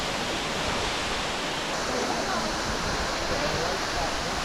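Rainier Falls, a waterfall reached by a short hike near Lake Crescent in Olympic, pours as a steady broadband rush, an even, continuous roar with no breaks, heard at moderate volume.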